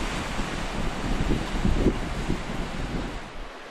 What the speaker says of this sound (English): Watching the waves roll in.